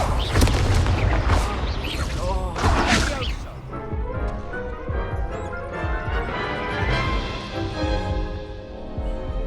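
In Hogwarts Legacy, spell blasts including Incendio and Confringo go off as a burst of heavy crashes and booms, then a ringing, tonal magical tail follows beneath the game's battle sounds.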